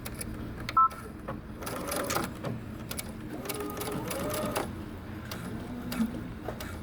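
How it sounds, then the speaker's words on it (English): A sewing machine back-stitches a dress seam at a 3/8-inch allowance, running in short, irregular bursts with ticking clicks and pauses between them. "Okay, so I'm going to back stitch. I'm using 3/8 of an inch seam allowance."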